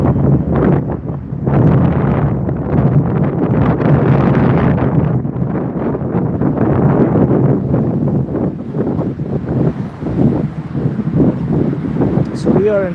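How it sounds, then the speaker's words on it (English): Strong wind buffets the microphone in loud, continuous gusts outside Frankfurt International Airport, with a person talking throughout. "It's very, very windy"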